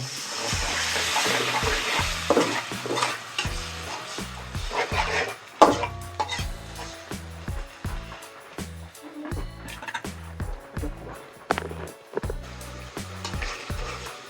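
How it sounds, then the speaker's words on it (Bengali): Water poured and splashing into a hot pan of young taro stolons cooked in mustard paste, with bursts of sizzling, clattering utensil knocks and stirring across the whole clip, fairly loud with no talking. "একটু পানি অ্যাড করব।"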